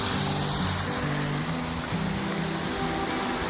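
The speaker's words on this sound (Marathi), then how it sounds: "धबधबा आहे बघा इथं." A small waterfall on a river at night gives a steady, close rush of falling water, with low droning tones running underneath.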